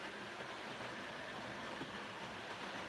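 A DB Schenker Class 08 locomotive on a model railway runs with a steady, soft mechanical whir and faint rolling rumble that stays even throughout.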